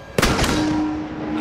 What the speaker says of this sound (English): and reached for the shotgun